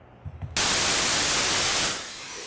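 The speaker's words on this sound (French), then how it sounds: "Donc ça a l'air de ça, un bruit blanc." Loud, steady white noise, a dense even hiss spanning the whole range, cuts in abruptly after a brief low rumble and holds constant, easing slightly toward the end; presented as an acoustics demonstration of broadband noise.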